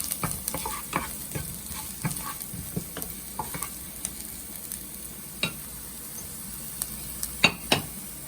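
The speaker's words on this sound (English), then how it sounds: "you add the scallion onion and stir slowly" Scallion and onion sizzle steadily in a pan while being stirred slowly, with soft scrapes and occasional sharper utensil knocks against the pan, close by and without voices.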